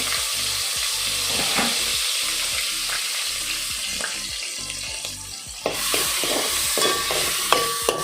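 Finely chopped onion and tomato sizzle and fry in a pan for a Goan aakur (cowpea) tonak, a steady crackling hiss with occasional stirring clatters near the end, loud and close with no talk.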